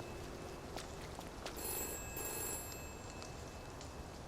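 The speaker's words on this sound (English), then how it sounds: "And the phone is ringing." An old-style telephone bell rings in a retro 1960s-styled world within the video game We Happy Few, a steady electronic trill repeating at a moderate level over a faint ambient hum with no talking.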